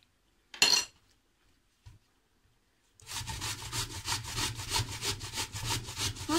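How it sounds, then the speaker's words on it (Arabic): An onion is rubbed against a grater in quick, rhythmic rasping strokes, close and fairly loud, after a few scattered clinks of kitchen utensils. "انا غادي نحك هاد البصله، انا البصله تنحكها."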